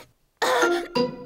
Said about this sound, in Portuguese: a tosse do Pedro é contagiosa